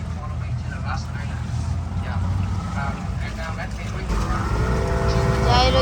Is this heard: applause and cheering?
no